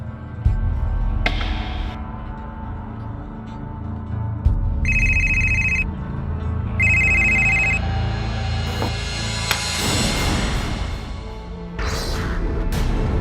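A telephone rings in two short, bright electronic bursts after the last-dialed number is called back, heard over a busy low background rumble. A crash-like rustle follows near the end.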